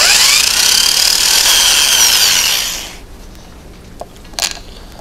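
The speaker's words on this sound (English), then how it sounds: "I'm drilling very carefully where I've made my mark. And I'm going in about a quarter of an inch." A power drill bores a quarter-inch hole into a guitar body for a Hipshot Tremsetter, whining loudly and steadily for about three seconds before stopping, followed by a few faint handling clicks.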